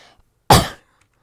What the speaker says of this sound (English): sorry if I'm coughing a bit